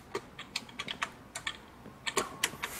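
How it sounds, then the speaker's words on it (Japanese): Computer keyboard typing during a Minecraft session: a quick irregular run of sharp key clicks, fairly close and clear with no talking over them. "キーボードの音がすごい。"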